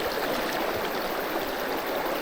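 Fast water in a mountain stream rushes in a steady, close, unbroken hiss and gurgle, with no voices over it.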